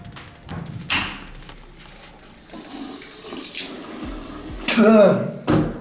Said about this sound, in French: Je me rince la bouche.